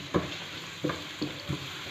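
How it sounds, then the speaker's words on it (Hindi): Onions stirred in hot oil hiss in a pan, with four evenly spaced spatula scrapes and knocks punctuating a steady, close sizzle. "प्याज को ऑयल में अच्छी तरह मिक्स करेंगे।"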